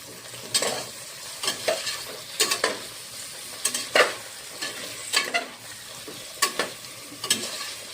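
Spoon stirring tomatoes in a pot of khichdi over heat, a steady run of scraping, clattering strokes at an even rhythm with a soft sizzle beneath, close and moderately loud, no voices.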